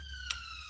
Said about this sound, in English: there's just a police car going past